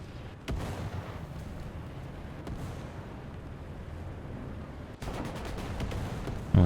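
A BMP-2M firing its cannon in the game War Thunder: a few heavy booming shots early on, then a quick run of rapid rounds later, all over a constant low engine rumble.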